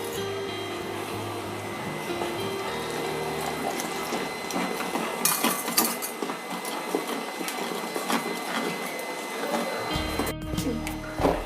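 Egg bonda batter is stirred in a bowl with steady scraping and clinking, close and fairly quiet. There is no talk.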